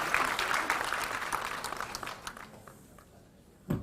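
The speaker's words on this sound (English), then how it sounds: "Round of applause for Bauchi State." Audience applause for Bauchi State at a televised quiz competition: a dense burst of clapping that fades out over a few seconds.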